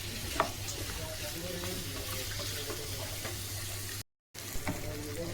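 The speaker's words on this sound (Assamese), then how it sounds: "এতিয়া মই এই পিঁয়াজখিনি যিহেতু ৰঙা হৈ গ'ল ভাজি মাংসখিনিৰ লগত" Onions fry with pork in a pan, a continuous quiet sizzle with soft bubbling and occasional stirring taps, heard close up with no talking and a short gap near the end.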